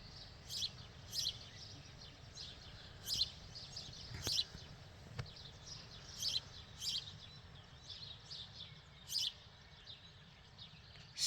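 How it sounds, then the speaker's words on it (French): Birds sing and chirp outdoors in the morning under a clear blue sky near Langogne in early June, with short bright phrases repeating every second or so over a quiet background and no talking. "Symphonie des oiseaux."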